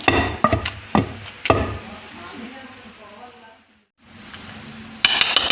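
Gongura leaves with peanuts and onions pounded lightly in a stone mortar for chutney, giving a few sharp thuds early on and a final burst of knocks, with a speaking voice running beneath.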